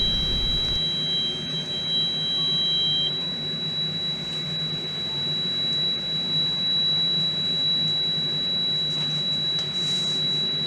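A steady high-pitched electronic alarm tone from a reconditioned detector head holds throughout over a low mechanical hum, with a second tone cutting out early on.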